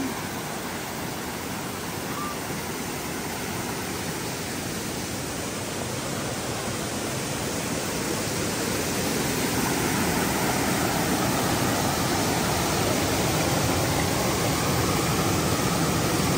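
A rushing mountain stream at Ping Nam, swollen by stormy rain, roars steadily and loudly as a broad, unbroken wash of water noise with no voices.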